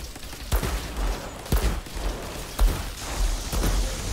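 Explosions and turret gunfire in the shooter game Outriders, with heavy thumping blasts landing roughly once a second over a continuous bed of rattling fire and rumble.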